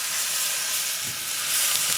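Italian bread sizzling in Kerrygold butter on a SmokeSlinger griddle, a steady, close, loud frying hiss that carries on without a break.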